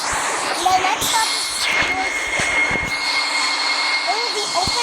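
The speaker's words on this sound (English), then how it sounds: "this is the Eastern Tram operating between Beachfront and Brandon Heights" Eastern Tram in the autoconnex subway video game, running between Beachfront and Brandon Heights: steady rumbling rail noise with squealing wheels and clattering bursts, close and loud, with a voice faintly underneath.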